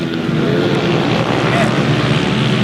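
A mini GP race bike held at full throttle during a pro final race, its engine a continuous loud buzzing drone under a commentator's voice with wind noise.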